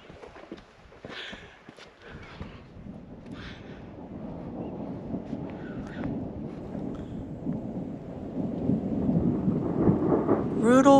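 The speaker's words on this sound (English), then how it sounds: "a massive thunder cell moved into the area, bringing incredible amounts of thunder and lightning" Deep rolling thunder from a massive storm cell builds steadily at an Oregon campground, rumbling low and growing louder, with footsteps and a few brief voices in between.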